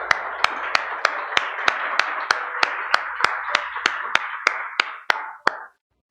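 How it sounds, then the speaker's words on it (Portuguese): A church congregation claps in praise in a steady unison beat of about fourteen crisp claps over a sustained background, ending abruptly into silence. "Vamos dar uma salva de palmas ao Senhor."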